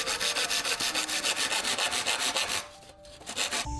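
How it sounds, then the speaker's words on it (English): A bamboo pole is cut by hand with a saw in a Vietnamese countryside garden, giving quick rhythmic rasping strokes that stop near the end, leaving a few quieter scrapes. "I cut each pole,"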